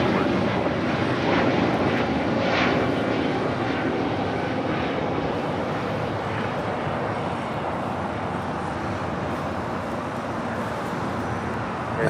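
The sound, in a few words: airplane engines at Los Angeles International Airport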